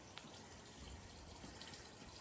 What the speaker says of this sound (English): So in this one, there is water.